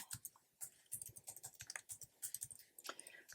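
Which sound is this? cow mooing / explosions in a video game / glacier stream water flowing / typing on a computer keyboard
typing on a computer keyboard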